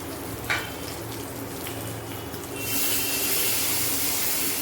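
Potatoes and paneer in spices in a pan, a quiet bubbling that turns into a louder hiss and sizzle as water is poured in.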